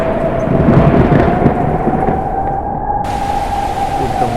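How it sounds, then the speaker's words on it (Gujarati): Strong wind gusts during a rainstorm make a loud, steady broadband roar, with faint rain mixed in and a slight swell in force partway through. "જોરમાં પવન લાગી રહ્યો છે."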